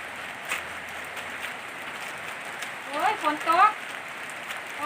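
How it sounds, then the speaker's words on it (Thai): Soft steady rain patters on a surface, with a few brief tonal chirps or calls rising over it near the end. "โอ้ยฝนตก"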